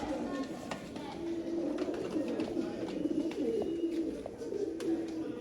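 Sialkoti pigeons coo in soft, low, repeated phrases from close by, layered over a steady background hum with faint chirps.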